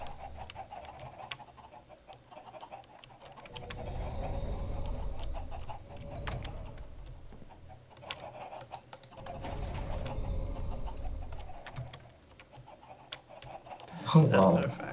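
Chickens clucking in a Minecraft-style game near a Mystcraft portal on a multiplayer server, recurring murmuring clucks under keyboard typing, with a louder cluck near the end.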